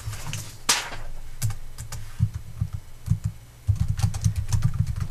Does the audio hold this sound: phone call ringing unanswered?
no